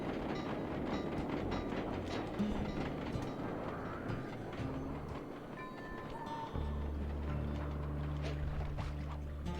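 A train rolls along its tracks in the video game Sly 2, a steady rumbling clatter with low droning tones that settles into a sustained hum partway through, fairly faint overall.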